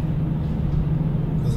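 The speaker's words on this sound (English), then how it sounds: "See a little bit of traffic here" Steady low road rumble of traffic from inside a moving car on a Crosby, Texas road, continuous and even with no talking.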